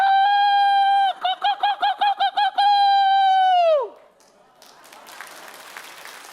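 A pastor voices a rooster's crow during a sermon, a loud close human imitation with a long sustained call broken into rapid pulsing syllables, followed by scattered faint clapping and room noise.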